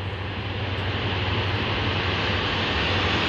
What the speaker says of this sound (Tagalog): ang ingay-ingay ng mga eroplano